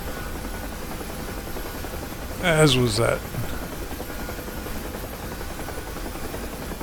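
Huey helicopter rotor and engine in the DCS flight simulator, a steady, loud drone that runs the whole time, with a brief spoken remark over it partway through.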